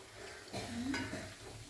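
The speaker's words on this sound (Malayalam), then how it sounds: "നന്നായി തിളച്ചിട്ടുണ്ട്. ഇനി നമുക്ക് ചെറിയ തീയിലിട്ട്" Homemade hair oil boils in a pan while being stirred, giving a soft, steady bubbling sizzle with a brief scrape of the spoon, fairly faint and close.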